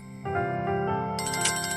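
A smartphone ringtone sounds for an incoming video call late at night, a bright melodic electronic tune starting abruptly and playing clearly and alone for under two seconds.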